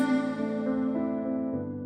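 Compressed sung vocal with long reverb tails, sustained tones decaying smoothly into a lingering wash, heard alone at a soft level.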